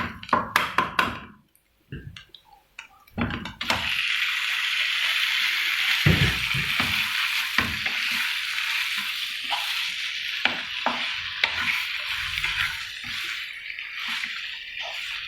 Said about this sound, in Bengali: জিরে আদা বাটা আর ধনে গুঁড়ো এইসব মশলাগুলো দিয়ে অল্প তেলেই একটু ভালো করে কষে নিচ্ছে